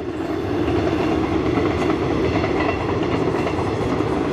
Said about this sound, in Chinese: 802编组的区间车在瑞芳秘境铁道拍摄地已经通过